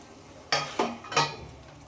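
Fried pointed gourd slices tipped into yogurt gravy and stirred, a few distinct scraping, splashing strokes close by, quiet between them.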